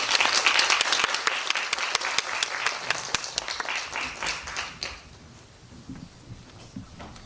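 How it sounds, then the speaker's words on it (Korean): A cinema audience applauds as a film's director and actors come up for a post-screening talk, brisk clapping that is loud and dense at first, then thins out and fades as a few murmured voices come through. "큰 박수로 환영 부탁드립니다."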